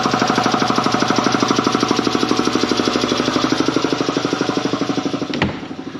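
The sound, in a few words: tractor-related motor running after being tightened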